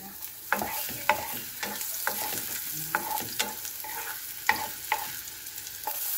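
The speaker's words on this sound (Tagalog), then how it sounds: "Ayan, magpainit tayo dito ng mantika. At igisa natin yung bawang at sibuyas." Garlic and onion sautéing in hot oil, a steady close sizzle broken by repeated sharp scrapes and taps of a spatula stirring the pan, with no voices.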